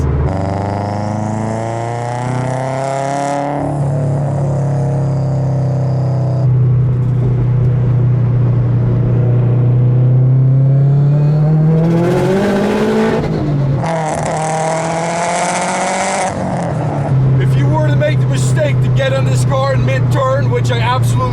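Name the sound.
500hp 2008 Subaru WRX driving at 60 mph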